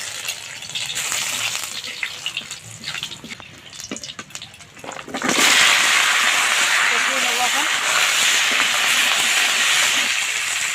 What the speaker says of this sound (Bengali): এই কড়ার মধ্যে আবার তেল দিয়ে দিচ্ছি জিরে আর শুকনো লঙ্কা